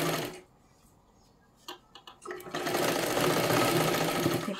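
A sewing machine stitches a hook strip onto a boat-neck katori blouse. It runs in a short burst at the start, pauses through a few soft clicks, then whirs steadily and loudly to the end.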